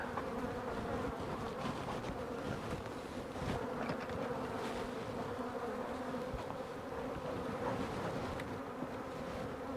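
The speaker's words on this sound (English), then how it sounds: "Now there's some bees." Bees swarm around an open beehive with stacked supers, a dense, continuous close-up buzzing drone that fills the space with no voices over it.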